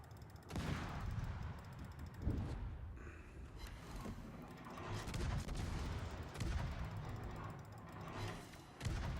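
Explosions and gunfire from ships in the naval battle game World of Warships, a dense run of loud booms and blasts with heavy low rumble and repeated sharp bursts throughout.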